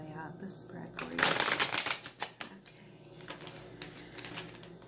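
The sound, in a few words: shuffling tarot cards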